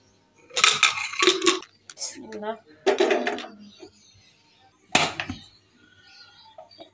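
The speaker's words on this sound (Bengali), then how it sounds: "এই তো এখন হচ্ছে প্রেসার কুকারের ঢাকনাটা আমি দিয়ে দিচ্ছি" A pressure cooker lid set onto the pot in a home kitchen, giving a sharp metallic clank near the end, with a voice talking before it.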